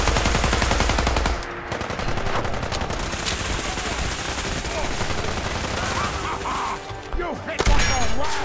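Gatling cannon in Fallout 4 fires in long, loud sustained bursts, a dense rapid rattle of shots with brief pauses and crashing impacts between volleys.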